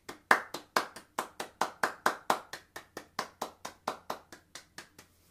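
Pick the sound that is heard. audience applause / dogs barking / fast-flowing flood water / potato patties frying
audience applause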